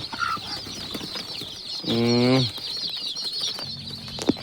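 Chickens and chicks in a cage on a poultry farm, brief clucks and a short squawking call over a constant high chirping of chicks, moderately close, with no talking.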